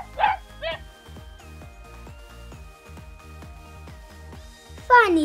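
A puppy in an animated children's birthday story gives a few sharp yips and barks, two near the start and a louder cluster at the end, over a soft plucked musical background.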